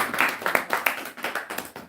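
Audience applause at a devotional Dussehra class, a brief burst of steady, fairly close hand clapping from a small crowd with no talk over it.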